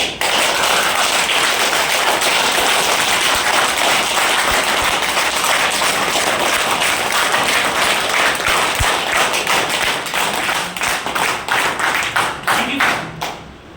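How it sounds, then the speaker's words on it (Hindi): A large seated audience claps loudly and steadily with both hands raised, a dense sustained wall of applause that thins into scattered claps near the end. "दोनों हाथ खड़ा करिए सर प्लीज, और एकदम साइलेंट नहीं, जोर जोर से ताली बजाइए"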